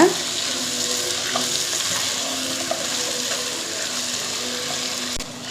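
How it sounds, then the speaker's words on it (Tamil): Potatoes and green peas are stirred into a masala frying in a pan for brinji rice, giving a steady close sizzle with soft scraping stir sounds throughout and no talking. "உருளைக்கிழங்கு அப்புறம் 1 கப் பச்சை பட்டாணி சேர்த்துட்டு இத நல்லா இந்த மசாலாவோட mix பண்ணி விடுங்க"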